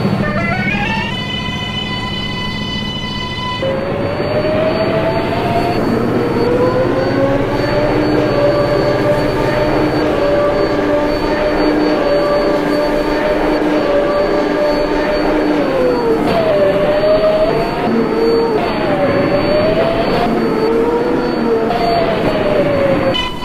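An R188 7 subway train bound for Queensboro Plaza runs loud and close, a steady rumble with rising and falling motor whine and brief wheel squeal, no voices.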